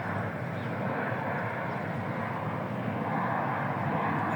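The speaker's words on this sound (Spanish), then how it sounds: "Los aviones del aeropuerto de Alicante vienen hoy por el este" Airliners fly low over the Urbanova housing estate on approach to Alicante airport from the east, a loud continuous jet-engine roar that fills the whole stretch and holds steady.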